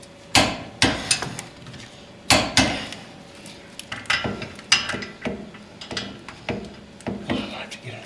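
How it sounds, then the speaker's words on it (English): A torque wrench tightens brake bolts on a Mercedes 300D, giving a series of sharp, close metallic clicks and knocks in irregular bursts, with brief talk mixed in. "Now with a torque wrench, I'll torque them."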